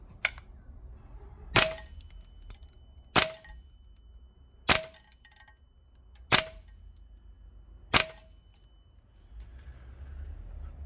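Five evenly spaced sharp shots from a VFC FN SCAR 17H green gas airsoft rifle firing 0.25 gram BBs, each a crisp snapping report about 1.6 seconds apart, with quiet between them.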